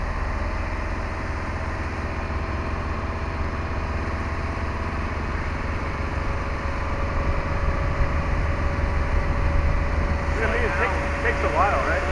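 A 1993 Maxum 1900SC boat engine runs steadily after a carburetor cleaning, a constant low rumbling drone held throughout, with a faint voice near the end.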